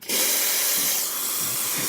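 Quick Mill Aquila espresso machine steam wand releasing a strong, steady hiss of steam after its heating element was repaired, loud and continuous from a sharp onset to the end.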